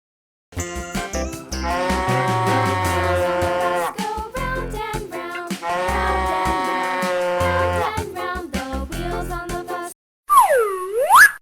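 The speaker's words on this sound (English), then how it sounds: "Cow." Cartoon-style cow mooing, two long drawn-out moos heard close and clear, followed by a short springy boing effect at the end.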